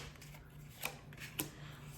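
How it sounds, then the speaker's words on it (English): Soft riffling of playing cards, with two brief sharp snaps as the deck is shuffled quietly up close over a low steady hum. "Last shuffle."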